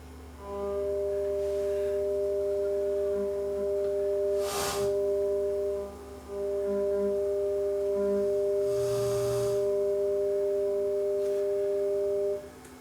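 Steady test tones from an AGS Trio 30G stereo receiver with faulty FM stereo, a 440 Hz tone in the left channel and 600 Hz in the right, holding loud and continuous, briefly dropping out with a couple of clicks and bursts of static.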